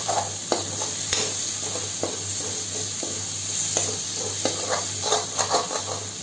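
Tomatoes for bhindi sabzi sizzle steadily in a hot pan while a spoon stirs and scrapes through them in repeated soft clicks, close and alone without talk.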